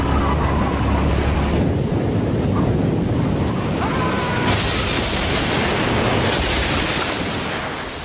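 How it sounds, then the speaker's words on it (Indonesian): Heavy surf roars continuously after a tsunami in a Krakatoa disaster film, big waves crashing and rumbling with wind buffeting the microphone throughout. "ombak yang besar terus mengganas dan menghancurkan apapun"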